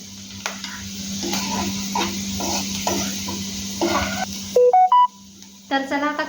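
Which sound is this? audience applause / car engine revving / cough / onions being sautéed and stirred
onions being sautéed and stirred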